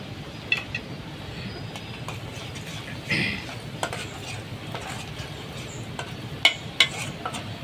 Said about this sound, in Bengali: রসুন আর পেঁয়াজ একসাথে অল্প কিছুক্ষণ ভেজে নিব।